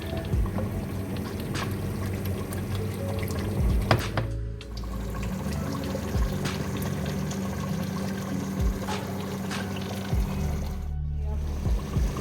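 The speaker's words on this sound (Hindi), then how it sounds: "पानी गर्म करके डाला मैंने" Hot water pours steadily into a cooking pot of beef paya, with a continuous splashing gurgle, briefly pausing twice, with clattering and background noise throughout.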